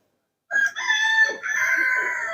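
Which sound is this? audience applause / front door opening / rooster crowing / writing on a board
rooster crowing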